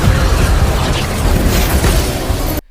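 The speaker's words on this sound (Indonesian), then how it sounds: "terjadilah kekacauan yang mengakibatkan kantor polisi meledak" A police station explodes in a film: a loud, dense blast roars steadily with a thick rumbling body, then cuts off abruptly.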